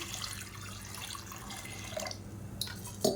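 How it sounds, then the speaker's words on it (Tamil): Water runs into a cooking pot of dal kuzhambu with chopped green chillies, a soft steady splashing stream followed by a few sharp drips and clinks near the end. "இப்போ இதில் முங்குற அளவுக்கு தண்ணி சேர்த்துக்கலாம்."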